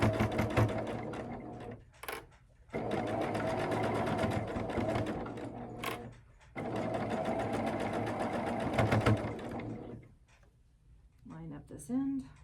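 A sewing machine stitches over a thick quilt seam in three sustained close bursts with short stops between them, and a voice briefly speaks at the end.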